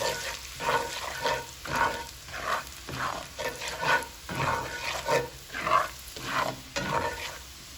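Freshly chopped garlic sizzling and frying in a pan while it is stirred, with rhythmic bursts of crackle and scraping repeating every half second or so, close and moderately loud.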